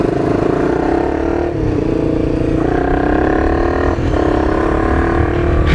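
A KTM Duke motorcycle fitted with a replica aftermarket exhaust idles and revs nearby, its loud, steady engine rumble swelling through several throttle blips with no talking.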